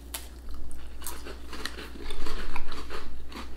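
Close crunching bites into a plain TUC cracker, a quick series of crisp snaps and crumbly chews with no one speaking.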